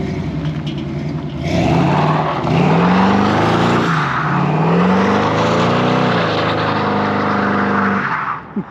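Truck engine revving loud and close as it drives and climbs through a couple of gears, pitch rising and falling with each shift under a steady rumble, then dropping away at the end.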